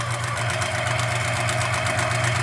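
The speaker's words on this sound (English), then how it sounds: "So I'll just sew right across there" A sewing machine stitching quilt squares across the diagonal, running at a steady fast rate with an even, rapid mechanical chatter and hum, close and continuous for the whole short stretch.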